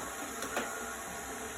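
Electric hand mixer beating ingredients for cake batter, a steady, quiet motor whir with a couple of brief louder scrapes early on and no talk.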